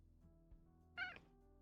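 A single short cat meow in the video game Kathy Rain 2, clear and close against a quiet low hum, with a faint soft bump just before it.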